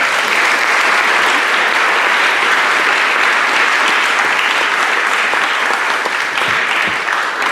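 Sustained audience applause fills a school board of education meeting, a dense, steady wash of many hands clapping at full volume throughout with no voices rising above it.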